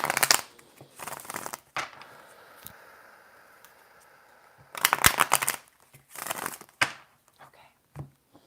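Tarot cards are shuffled in several quick, crisp riffling bursts close to the microphone, separated by quieter pauses with faint handling.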